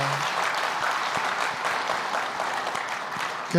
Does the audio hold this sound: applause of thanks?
yes